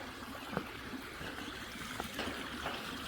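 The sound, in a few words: river water flowing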